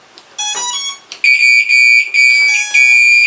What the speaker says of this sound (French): là, une jolie alarme, hein, c'est fait exprès pour faire voir que ça fonctionne bien